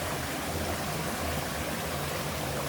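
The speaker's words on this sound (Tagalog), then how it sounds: "Tunog lang ng crickets at saka tubig ang ating maririnig." Steady broadband rush of flowing river water, continuous and even throughout, like a stream running nearby with no other distinct sounds.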